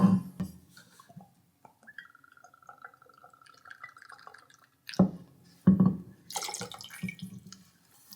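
Orange liqueur is poured into a half-ounce measure for an orange cosmopolitan, a brief close trickle and dripping with glassy clinks, quiet between a few sharper knocks.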